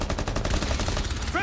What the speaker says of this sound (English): Aim at the anchor points and shoot with weapon.